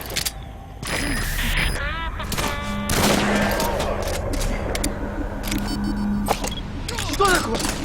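Video game gunfire, loud sustained volleys and bursts mixed with whooshes and game effects, continuous across the stretch with voices calling out in places.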